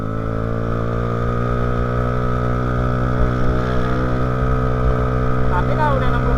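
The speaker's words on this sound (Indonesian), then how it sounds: "Tapi kalau udah 60 ke atas kita buka gas lagi. Itu cepet banget naiknya." 2014 Vespa Primavera 3V scooter with a remapped ECU, its engine droning steadily as it accelerates, a close, continuous buzzing hum that holds its pitch with little change, and a voice talking over it.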